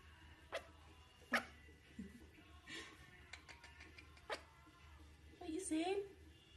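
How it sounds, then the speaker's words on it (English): A puppy barks in a few sharp, separate yelps over a low steady background hum, with a faint whine and some rustling between the barks. "what are you barking for?"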